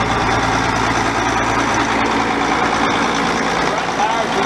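A Case IH 3594 tractor's diesel engine runs steadily at idle, with a loud, constant low rumble and drone close by. Nothing else is heard over it.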